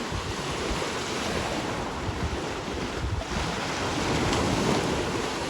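Waves surge and wash continuously while strong wind buffets the microphone during a storm in Cherkasy, a loud steady roar that swells toward the end.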